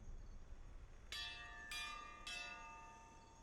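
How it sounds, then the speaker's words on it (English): Three struck bell tones in the fantasy game Pillars of Eternity 2, each a bright ringing clang with a long shimmering decay, spaced about half a second apart over a quiet background with no talk. "So we're gonna just ring the bell."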